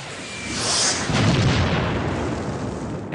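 A bomb explosion effect in a child's home movie, a loud broad rumbling blast that swells and then slowly fades over a few seconds.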